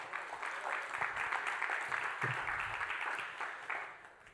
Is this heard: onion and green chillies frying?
no